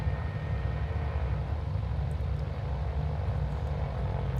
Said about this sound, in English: The sound is incredibly throaty in this aircraft.